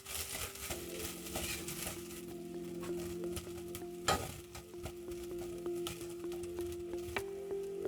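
Food sizzling in a pan while being stirred after a pinch of salt and black pepper go in, a steady frying crackle with soft scraping strokes close by and no talking.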